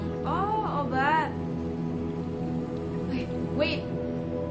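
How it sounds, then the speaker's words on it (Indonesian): Steady rain patter in Little Nightmares 2 fills the background, with whooping game sound effects rising above it and the rain continuing quietly throughout. "Kok hujan ya?"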